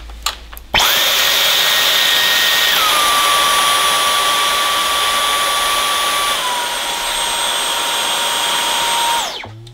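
A Dyson Outsize cordless stick vacuum runs on boost mode, a loud high-pitched whirring whine that starts abruptly, steps down in pitch twice, then cuts off at the end.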